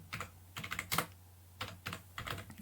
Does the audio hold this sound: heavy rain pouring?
no